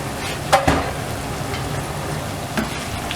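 Half a kilo of fresh chicken goes into a pan of masala for a chicken spinach curry, giving a steady low sizzle with a couple of clattering stir bursts near the start and one more toward the end.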